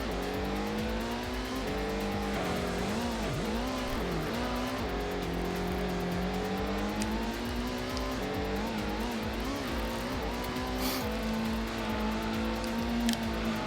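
Race car engines from the PS1 game Gran Turismo whine and rev continuously, rising and falling in pitch through gear changes, loud and close throughout an all-night endurance race with brief tire squeal.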